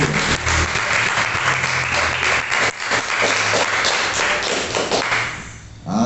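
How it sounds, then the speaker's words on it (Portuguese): A church congregation at a Portuguese-language service applauds in a dense, loud wash of clapping with heavy taps and thumps, sustained for several seconds before it briefly eases and swells again. "Vamos aplaudir o Senhor."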